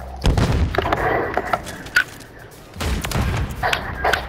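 Grenade blasts in a first-person shooter match, two heavy booming bursts roughly two and a half seconds apart with rumbling tails, surrounded by scattered gunfire and a faint voice.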